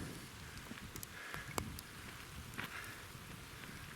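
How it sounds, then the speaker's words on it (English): Hail and snow falling outdoors at the Valley of the Rocks, a steady hissing patter with occasional sharper ticks of pellets striking nearby, continuous and fairly faint, with no talk. "Literally only like a minute has gone by and it's snowing."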